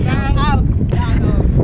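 Strong wind buffets the microphone throughout while fishing from a boat near an island, with water and boat noise underneath and a voice briefly audible.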